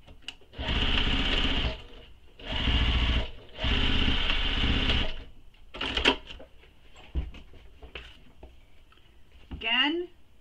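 A sewing machine stitches a bag seam in three sustained bursts of whirring, each a second or more, followed by shorter stops, clicks and handling sounds; a voice speaks briefly between runs.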